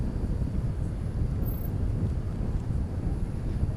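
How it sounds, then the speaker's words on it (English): An Airbus A380 airliner at DFW airport gives a steady, low broadband rumble throughout, loud and continuous, mixed with some wind noise on the microphone. "So there is the A380 Colby"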